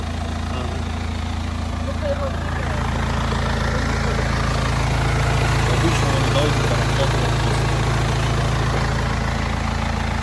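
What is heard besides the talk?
BMW car engine idling quietly after starting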